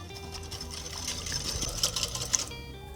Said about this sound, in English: Go ahead and just whisk that together.